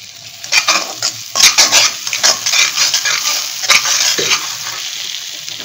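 A spice masala fried in oil for a Bengali pabda fish curry, stirred with a metal spoon that clinks and scrapes against the pan in uneven strokes over a constant close sizzle.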